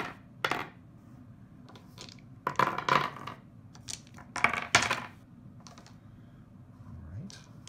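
Dice for a tabletop building game clatter and tumble across a table in several short bursts, hard plastic clicks and rattles separated by quiet pauses.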